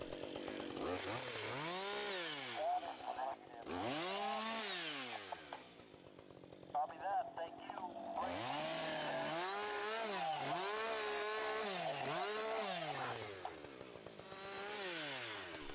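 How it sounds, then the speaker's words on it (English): A chainsaw limbs up the trunk of a leaning tree before felling. Its engine rises and falls in repeated loud revving surges, with a brief idling dip mid-way, close by throughout. "The first thing that needs to be done before felling the tree is to limb the tree up 5 to 6 feet."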